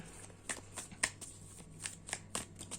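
Tarot cards being shuffled by hand, a quiet series of soft, papery riffles and slaps in an irregular rhythm, close and faint.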